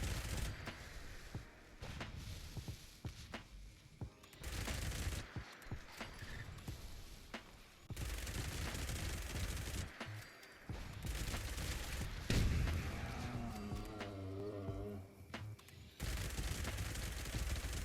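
A minigun in Fallout 76 firing in long, dense bursts at Mirelurks, rapid rattling gunfire broken by short pauses and booming impacts, with creature noises mixed among the shots.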